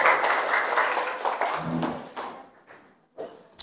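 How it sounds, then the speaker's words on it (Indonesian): Grade 7A students in a classroom clap together in a short burst of applause, a dense patter of hands that thins out into a few scattered claps and taps. "Ya, oke, tepuk tangan, beri plus untuk kelas 7A ya."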